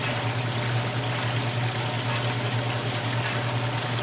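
Water sprays out of an engine being cranked over while unwinterizing for the 2024 season, a constant rushing hiss with a steady low drone beneath, close and unbroken throughout.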